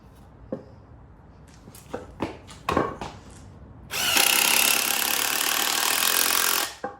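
A power drill drives a 3-inch screw into wood while fitting out a small van camper, a loud steady whir lasting about three seconds after a few short knocks and clatters, then stopping abruptly.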